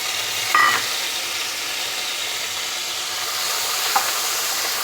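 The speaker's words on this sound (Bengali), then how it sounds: "এখন আমি মাছগুলোকে ভেজে নিচ্ছি" Salted hilsa fish pieces fry in hot oil, giving a steady, even hiss with a couple of brief crackles, close and moderately loud, with no voices.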